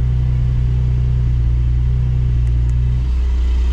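Porsche 718 GT4 with its 4-litre six-cylinder engine idling with the sport exhaust open, a loud, steady low rumble with a deep droning hum that drops away near the end while the engine keeps running.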